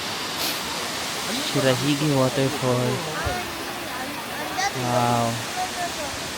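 Shirahige Waterfall in snowy winter in Hokkaido, a steady broadband rush of falling water running throughout, with a person speaking briefly over it.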